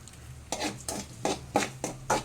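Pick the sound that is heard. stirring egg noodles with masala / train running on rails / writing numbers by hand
stirring egg noodles with masala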